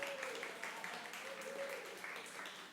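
Quiet audience applause at a storytelling night, a short burst of steady clapping from a seated crowd, heard faintly with a voice partly over it.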